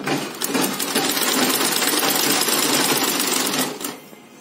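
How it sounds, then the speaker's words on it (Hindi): A sewing machine stitching two layers of cloth, pure cotton under a lining fabric, for a homemade face mask, runs in one steady close rapid mechanical whir for about three seconds, then stops, with no talk. "नीचे प्योर काटन वाली, ऊपर अस्तर वाली कपड़ा, दो लेयर में रख के ये देखिए ऐसे सिलाई करना है"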